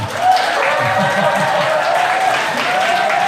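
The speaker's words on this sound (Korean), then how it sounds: "신부 측 확인 여러분 박수와 함성" Wedding guests applaud and cheer as the bride's side is introduced, a loud, steady wash of clapping and voices lasting the whole stretch, with a tonal voice or music line running through it.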